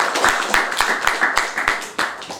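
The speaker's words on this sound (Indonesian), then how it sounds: "Oke, tepuk tangan." Short round of hand clapping from a small audience at an Islamic study session, a handful of distinct, fairly close claps in loose rhythm over a roomy background.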